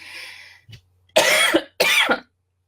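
Two harsh, loud coughs from a person with a cold and flu in quick succession, close up, following a short breathy exhale.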